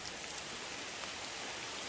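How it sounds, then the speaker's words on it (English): Steady rain falls on a guava garden, a constant, even hiss of drops with no pauses, moderately faint. "I'm gonna get out of the rain"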